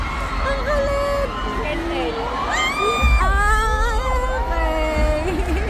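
A concert crowd awaiting a band screams and cheers, with high, sliding shrieks and whoops piercing through a steady loud roar, growing more intense midway and staying dense to the end.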